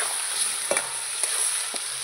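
A masala spice paste for a meat and elephant foot yam curry fries with a splash of water, giving a constant bright sizzle broken by soft scraping stirs about every half second, close and without voices.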